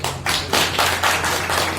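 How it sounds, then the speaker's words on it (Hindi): An audience at a community gathering claps in welcome, sharp rhythmic clapping in several quick swells, loud and near, ending abruptly. "इसलिए मैं चाहूंगा कि आप लोग सभी एक बार उसका दिल से स्वागत करें, तालियों से।"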